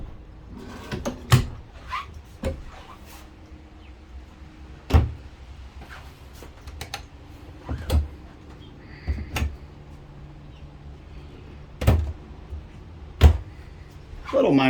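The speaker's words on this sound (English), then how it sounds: "Let me open a couple of these drawers." Kitchen drawers in a 2016 Starcraft AR-One Maxx 26 HR no-slide toy hauler RV are pulled open and pushed shut, giving a series of sharp knocks and thuds spaced a few seconds apart, close by, with faint room tone between.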